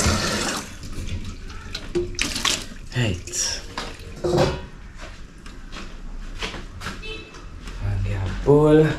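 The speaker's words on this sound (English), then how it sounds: "So, you're running the cold water" Cold water runs from a kitchen tap while an aloo pie is being cooked, a steady splashing wash with some clattering, heard under continuous talking.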